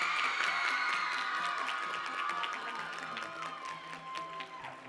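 A crowd claps and cheers for the contestants at the Miss Sam Houston 2019 pageant, with high whoops and shouts over sustained applause that slowly eases off.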